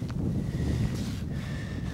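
Steady cold wind buffeting outdoors on a lake in Maine, a low rumbling roar with gusty fluctuations, continuous and close to the microphone.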